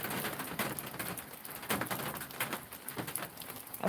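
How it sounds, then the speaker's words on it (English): Rain pattering outdoors beside a creek during catfish noodling, a constant close hiss of drops with sharper individual splashes, heard alone with no voices. "It sounds like it's raining."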